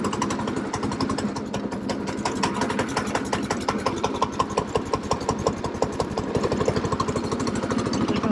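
A small go-kart engine runs steadily after a cold start on a winter day, its rapid putter loud and close with a buzzy, mower-like chatter throughout, no voices.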